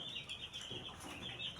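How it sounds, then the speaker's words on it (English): Three-day-old chicks in a poultry brooding house give a steady, dense chorus of high peeping, continuous and fairly close, with no talking. "These birds we are seeing are just 3 days old."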